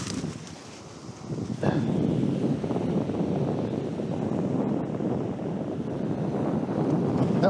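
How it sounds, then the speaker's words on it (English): Gusty wind buffeting a microphone on a fishing pier at low tide, a loud rumbling roar that swells after a quieter start and keeps blustering steadily. "That was the wind."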